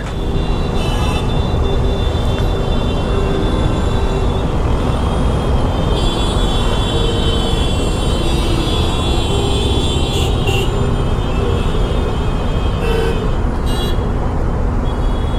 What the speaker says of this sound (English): This is kind of the peak hour, so that's the reason why so much of traffic here.